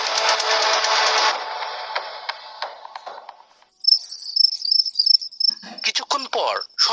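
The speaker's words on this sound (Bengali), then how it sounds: "ঝিঝি পোকার ডাকও থেমে যায়।" Crickets chirp in a rapid, dense buzzing trill at night, loud and close at first, fading over a few seconds to near silence, then returning as a sharp high pulsing chirp with a quieter rustling layer underneath.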